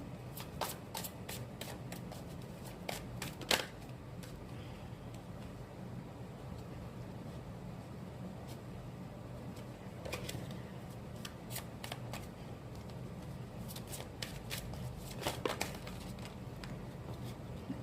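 Oracle cards are shuffled over and over, a soft rapid riffling and patter that repeats in bursts across the whole stretch, fairly quiet and close with no talking.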